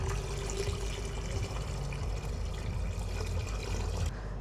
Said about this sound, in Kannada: ಈಗ ಆ ಮ್ಯಾಂಗೋ ಪಲ್ಪ್ಗೆ ನಾವು ವಾಟರ್ ಮಿಕ್ಸ್ ಮಾಡ್ತಾ ಇದ್ದೀವಿ